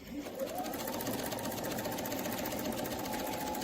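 A sewing machine stitches steadily around a quilting template, its motor humming with a fast, even needle rhythm, close and unbroken for the whole stretch.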